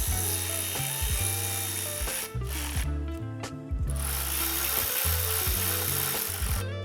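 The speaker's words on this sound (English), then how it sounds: "we're gonna install the bracket nuts for the catalytic converter" A ratchet clicks in quick bursts as catalytic converter bracket nuts are tightened during turbocharger installation on a GM 1.4L Chevy Cruze turbo, repeated short ratcheting strokes with brief pauses, close and clear, no talking.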